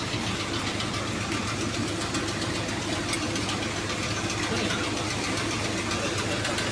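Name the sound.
Hyundai Grand Starex CRDI D4CB diesel engine running, worn alternator bearing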